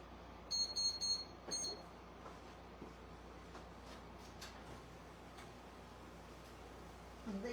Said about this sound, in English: my buzzer's going off